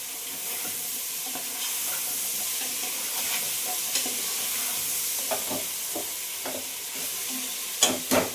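Vegetables stirred and sautéing for sambar give a steady sizzle in a pan, broken by light scraping strokes that grow sharper near the end. No voices.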